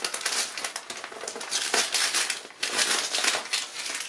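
A sterile burn dressing package is torn and pulled open by hand, its wrapper giving off close, continuous crinkling and crackling bursts with brief pauses and no talking.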